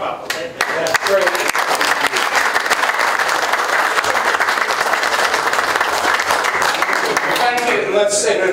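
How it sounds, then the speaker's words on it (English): Sustained applause from a conference audience, loud and steady throughout, with dense clapping filling the whole stretch and a few voices mixed in. "in addition to applauding the Uzbek dessert, let's applaud our great panelists"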